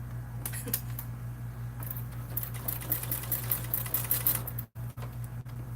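A sewing machine with a walking foot stitches a bag in short bursts of rapid mechanical clatter over a steady low motor hum, close and clear, with brief pauses near the end.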